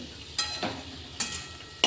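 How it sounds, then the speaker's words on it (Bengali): Paneer frying lightly in ghee in a pan, heard as a soft steady sizzle broken by a few short bright scrapes and clinks of a utensil, quiet and close with no talking. "ঘিয়ের মধ্যে পনিরগুলো হালকা একটু ভেজে নেব।"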